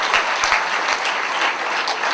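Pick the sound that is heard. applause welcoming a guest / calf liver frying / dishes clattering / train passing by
applause welcoming a guest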